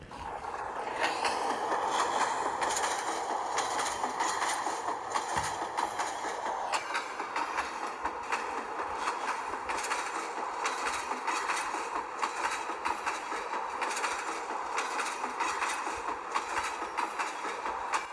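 A train rolls past close by at Kottayam railway station with a steady, loud rumble and rhythmic clatter of wheels on rails, continuing throughout with no voices.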